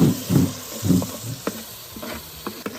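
An onion and tomato paste fries in a pan, sizzling while it is stirred in uneven scraping strokes, with louder pushes near the start and a steady hiss underneath.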